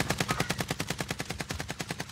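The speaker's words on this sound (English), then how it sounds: "Someone else is shooting." Rapid automatic gunfire from a Cold War AK in Call of Duty Cold War, a steady stream of evenly spaced, punchy shots running throughout with no talk.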